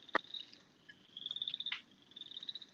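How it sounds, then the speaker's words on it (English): High, thin night insect calls ring outside in sustained trilling bursts, with a sharp click near the start, quiet and somewhat distant against near silence. "We just heard crickets."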